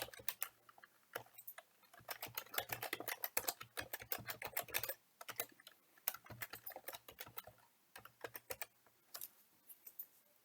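Computer keyboard being typed on to enter a username and password at a login screen: quick irregular bursts of light key clicks with brief pauses, close and fairly quiet, with no talking.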